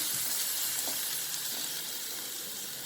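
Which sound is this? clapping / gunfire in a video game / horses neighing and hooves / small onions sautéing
small onions sautéing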